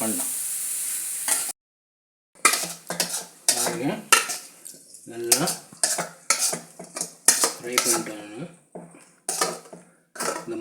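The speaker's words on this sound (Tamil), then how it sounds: "எல்லாத்தையுமே மிக்ஸ் பண்ணி நல்லா கலக்கிக்கலாம்" Uttapam batter is mixed with added ingredients in a bowl, a spoon clinking and scraping in short irregular bursts, close by, with a brief silent gap and a speaking voice over the stirring.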